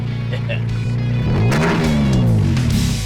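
A Toyota Tacoma with Flowmaster exhaust revving up loud and close, the note climbing and falling in a throaty sweep after a steady idle.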